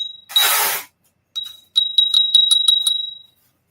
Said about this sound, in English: number 42 is a ballerina cat bell